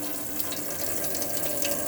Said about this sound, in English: you'll open all the taps up on the hot side.